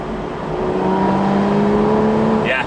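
An Aston Martin V12 Vantage S Roadster in sport mode gives a loud, sustained engine drone that rises steadily in pitch as it accelerates, then ends in a sharp burst near the close.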